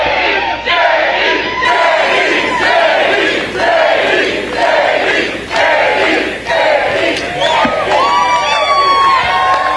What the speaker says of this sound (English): We've got a hell of a crowd in the state of Michigan.